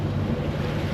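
The fishing boat Barracuda passes at sea at about 10 knots, heard as a steady low engine drone blended into constant wind and wave noise.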